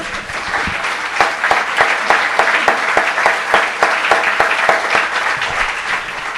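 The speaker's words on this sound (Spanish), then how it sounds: "Le puede dar un aplauso al Señor, hermano." A church congregation breaks into strong, sustained applause, a loud dense roar of clapping with rhythmic accented claps running evenly throughout.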